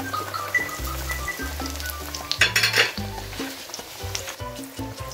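Peruvian stuffed potatoes (papas rellenas) frying in a very hot pan: loud continuous sizzling punctuated by utensil scrapes and clinks against the pan, with a louder burst of spitting midway.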